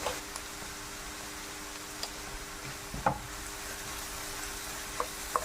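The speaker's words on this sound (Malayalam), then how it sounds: "വെളുത്തുള്ളിയും സവോളയും പച്ചമുളകും നല്ലോണം വഴറ്റിയെടുക്കും." Garlic, onion and green chilies sauté in a pan with a soft, even sizzle that runs throughout, broken by a few light taps of a spoon against the pan.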